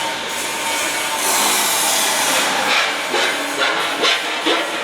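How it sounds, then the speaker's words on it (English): A hammer mill runs in a feed factory, giving a loud, steady broadband roar with grinding texture and a few louder surges, with no talk over it. "This is an hammer mill."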